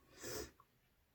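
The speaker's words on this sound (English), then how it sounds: "I'm so sorry about the sniffling." A single short, breathy hay-fever sniff through the nose, close and fairly quiet, followed by a faint brief click.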